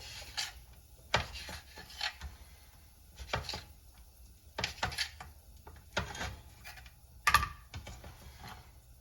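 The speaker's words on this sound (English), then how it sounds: "3 strips of the bacon and just cut those up in little chunks pretty much." Several strips of bacon are cut into small chunks with a knife, each stroke giving a crisp, close tap against the board in irregular clusters, with quiet pauses between.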